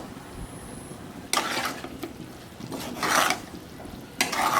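Fried chicken pieces being stirred into a cooked spice masala in a pan for Bengali doi chicken: several bursts of spoon scraping and clattering over a quiet background sizzle.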